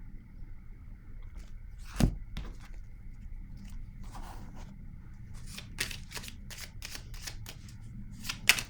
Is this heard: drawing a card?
yes